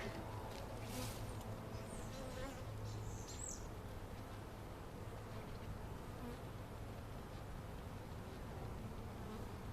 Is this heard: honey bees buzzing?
yes